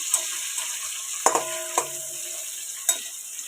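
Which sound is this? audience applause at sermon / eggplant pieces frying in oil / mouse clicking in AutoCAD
eggplant pieces frying in oil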